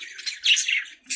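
Pet budgies chirping in a cage during the rainy season, a run of bright, close twittering calls that swell in the middle and return briefly at the end, with no talking.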